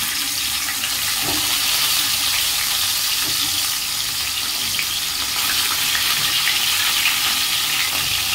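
Pieces of rohu fish fry in a pan with oil, giving a steady, dense sizzle throughout, close and moderately loud with no talking.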